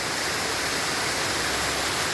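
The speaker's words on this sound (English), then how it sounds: "There is another waterfall." Waterfall at Cascata delle Marmore park in Italy, a steady broadband roar of falling water, close and continuous throughout with no voices.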